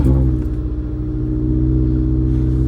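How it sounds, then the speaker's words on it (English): A Mazda MX5 NC engine drones loud and close in a steady, deep rumble as the roadster accelerates, with no voices over it. "First time driving an MX5 actually."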